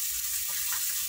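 Onion and bell pepper fry in a pan with a bright, steady sizzle at moderate loudness and a few small bubbling swells, close by, with no talking.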